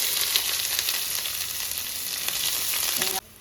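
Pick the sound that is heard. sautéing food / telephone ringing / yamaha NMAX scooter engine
sautéing food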